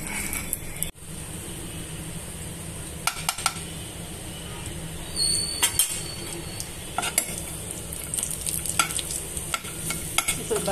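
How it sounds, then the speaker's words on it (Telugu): Cashews fry in a pan with a soft, steady sizzle for a semolina sweet, while a metal spoon scrapes and clinks against the pan as they are stirred at close range. "బ్రౌన్ కలర్ వచ్చేదాకా వేయించుకోవాలండి."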